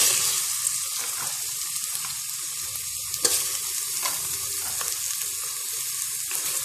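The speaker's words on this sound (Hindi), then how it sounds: "चिकन शामिल करने के बाद आपने इसे अगेन 5 से 7 मिनट तक फ्राई करना है" Chicken frying with softened onions in a pan makes a continuous close sizzle, with occasional utensil clicks and stirring scrapes and one sharper knock midway.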